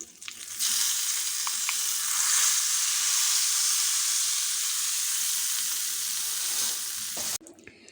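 Tempering crackles and sizzles loudly in very hot oil for raw tur dal pulusu, a sudden burst of steady hissing frying that holds for several seconds before cutting off abruptly.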